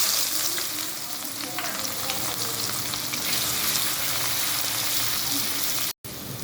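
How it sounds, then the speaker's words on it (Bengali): Chopped onions sizzle steadily in hot oil left over from frying fish, a loud, even crackling hiss with faint stirring, interrupted by a brief dropout near the end. "মাছ ভাজার সেম তেলে আমি দিয়ে দিচ্ছি পেঁয়াজ কুচি।"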